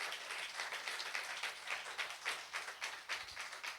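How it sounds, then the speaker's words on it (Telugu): A worship congregation claps together in a dense, steady wash of handclaps that fills the room, moderately loud and continuous with no voice on top. "క్లాప్ కొట్టేసి దేవునికి మహిమ చెప్పు."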